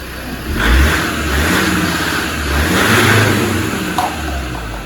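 A Land Rover Defender TD5 diesel engine is given a few moderate revs, the throttle rising and falling in two or three swells over a steady idle, recorded close with no talking.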